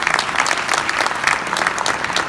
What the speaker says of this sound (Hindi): दोनों तालियां अभिजीत जी के लिए